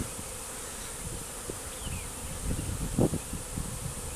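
A swarm of bees buzzes steadily during a hive capture, a dense close hum with faint rustling and a few soft knocks near the end, no voices.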